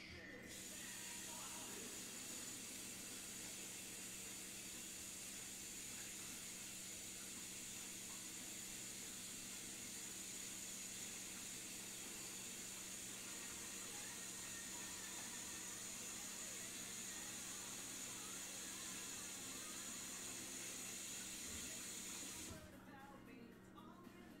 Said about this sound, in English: let me go wash my brushes